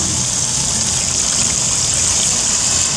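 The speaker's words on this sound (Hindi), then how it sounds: "अब अम्मी जान इसमें पानी शामिल करेंगी।" Water pouring steadily into a pot of aloo gosht after the meat and potatoes have been fried, a continuous close splashing gush with no talk over it.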